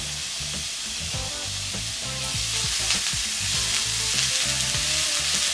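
Onions and garlic fry in a pan for Mauritian fried rice, giving a loud, continuous sizzle with steady crackle and occasional stirring scrapes, and no talking over it.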